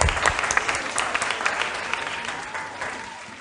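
Steady applause from an audience at a national school quiz championship, dense clapping filling the room, loud at the start and easing slightly toward the end, with no voices over it.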